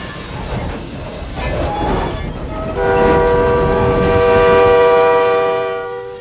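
Freight train at a railroad crossing, rumbling along as a loud multi-tone horn blasts and holds steadily, with heavy rolling noise underneath, close and loud.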